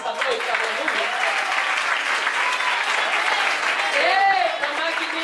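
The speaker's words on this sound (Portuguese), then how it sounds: "Aplauda Deus nessa noite, aleluia." A church congregation applauds loudly and continuously during a Portuguese-language evening service, with cheering voices and shouts mixed into the steady dense clapping throughout.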